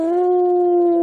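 A human voice imitates a tiger's roar in a children's Hansel and Gretel story, holding one loud, steady, sustained tone for about a second, close and alone.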